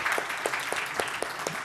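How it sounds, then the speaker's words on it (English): Audience applauding the IT Park team at the Kazan Summit 2017 investment session, dense steady clapping from a large crowd with a few sharper claps standing out, heard alone. "if you would like to give them a huge applause"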